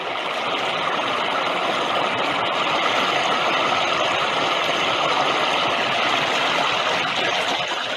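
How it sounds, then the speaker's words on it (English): Generated waterfall in Thailand: a steady, loud, broadband roar of rushing water, constant and unbroken throughout with no voices. "a soundtrack for a waterfall in Thailand,"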